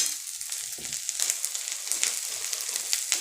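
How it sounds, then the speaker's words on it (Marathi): Peanuts and chilli pieces roast in a hot pan with a bright, continuous sizzle and crackle, close and fairly quiet, with occasional small pops as they are turned. "शेंगदाणे सुद्धा अगदी छान पद्धतीने असे भाजून घ्यायचे मस्त असा कलर आला पाहिजे"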